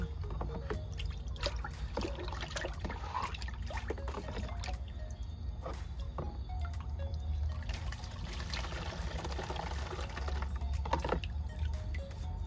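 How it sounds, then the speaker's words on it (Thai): Homemade liquid EM starter is poured back into bottles, a soft trickling and gurgling of liquid with scattered clicks and knocks, faint and close, with no voices. "เราก็กรอกเลยค่ะเอาขวดมา ใส่ขวดกลับเหมือนเดิมเหมือนตอนแรกที่เราเทน้ำออก"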